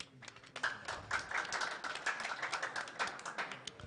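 Clapping at a signing ceremony between doctors and government officials, a small group of people clapping unevenly at close range with sharp, scattered hand claps.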